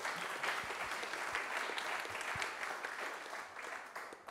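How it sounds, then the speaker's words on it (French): Conference audience applauding after a speaker is introduced at a talk on generative artificial intelligence, a steady wash of many hands clapping at a moderate, slightly distant level throughout. "monsieur Charles-Ange Ginesi, que vous pouvez aussi applaudir."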